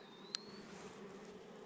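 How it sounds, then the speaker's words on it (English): Honey bees buzz under the lid of a hive during an inspection, a faint steady insect hum running throughout with one brief sharp click, no voices. "A decent number of bees under the lid."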